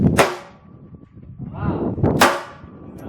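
Two sharp shots from an Accu-Tek AT380 II .380 ACP pistol fired at an outdoor range, about two seconds apart, loud and close, with a brief exclamation between them.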